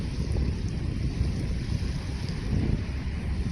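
Waves wash steadily along the Manila Bay shore during the habagat monsoon, a continuous low rushing surge with wind buffeting the microphone, no voices.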